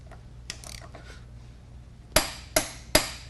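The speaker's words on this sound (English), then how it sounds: "we're going to tighten it up with the torque wrench" Torque wrench tightening a hub bearing to preload on a 2002 Chevy Suburban: after quiet workshop rumble and a couple of small metallic ticks, four sharp, loud clicks land at a steady, evenly spaced rhythm, close to the listener.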